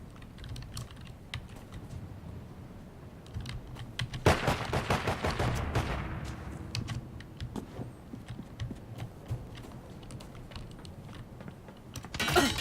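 Rapid bursts of video game gunfire crackle through a steady background, with a dense volley in the middle followed by scattered sharper shots.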